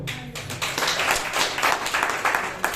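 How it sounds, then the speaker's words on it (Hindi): A church congregation claps together during a Hindi sermon, a dense, continuous patter of many hands filling the room at moderate loudness for a few seconds. "ताली बजाओ"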